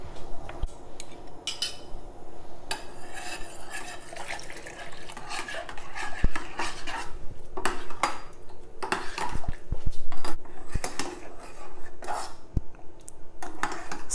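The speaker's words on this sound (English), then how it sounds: "I'm going to add this in the boiling water, and you have to keep stirring this" A spoon stirs cornstarch slurry into boiling water in a pot, with continuous scraping and clinking of metal against the pan and occasional sharper knocks, close and clear with no talking.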